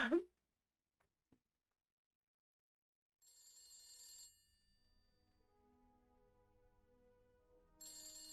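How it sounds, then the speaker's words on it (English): A phone rings inside a horror video game, its shrill electronic trill coming in two faint bursts over near-silence and a low ambient drone, with no voices. "Boy, this phone is just ringing forever."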